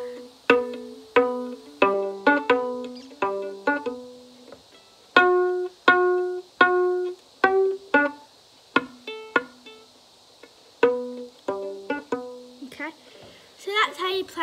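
A violin plays a melody in a simple, beginner-friendly version, with clear plucked or bowed notes in short phrases and pauses, fairly close and alone, with a faint hiss underneath.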